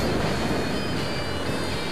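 Rough ocean waves break on a rocky shore at Hiwasa, Japan, on a stormy day, making a constant loud roar of surf and wind with no pauses.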